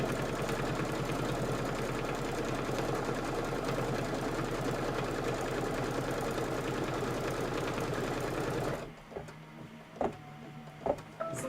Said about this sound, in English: I'm just going to hit the start button and let it do the placement for the brown panel siding